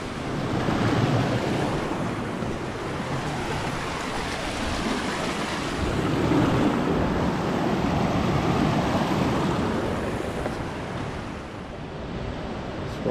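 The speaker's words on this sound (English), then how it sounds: "Almost to the waterfall." A waterfall flowing among rocks in Kings Canyon and Sequoia National Park, a loud, continuous rushing roar of water that stays steady for the whole stretch, with some wind buffeting and no voices.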